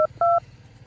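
Phone keypad dialing tones, two short beeps in quick succession, the second held a little longer, clear and close over a low background hum.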